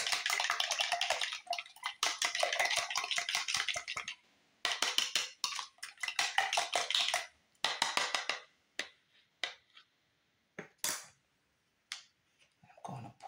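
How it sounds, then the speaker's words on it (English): Five eggs whisked in a bowl, a rapid run of light clicking strokes in bursts, then slower, sparser taps and scrapes toward the end, close and fairly clear with no talking. "I'm scrambling the 5 eggs."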